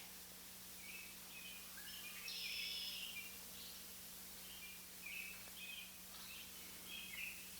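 Scattered bird chirps and short song phrases drift over a soft, steady outdoor hush, fairly quiet and distant, with no voices.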